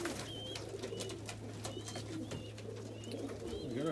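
Reverse wing pouter pigeons coo in a loft, soft repeated throaty coos at close range over a constant low hum, with no talking.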